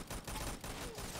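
Rapid bursts of gunfire from the Roblox game Arsenal crackle in a dense, steady barrage with brief gaps, loud and close, with no voice over it.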